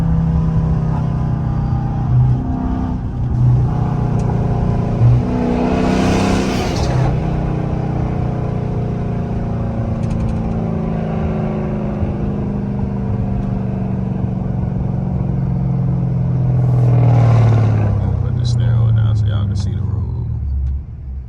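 Dodge Charger with a 5.7 SRT engine, a rebuilt AWD car, rumbling at idle with two swelling revs, heard from inside the cabin under occasional talk.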